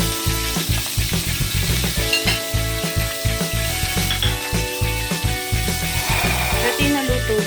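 Dried daing and smoked tinapa fry in a pan with a loud, steady sizzle, overlaid by rhythmic scraping and clicking from stirring or flipping, heard up close with no talking.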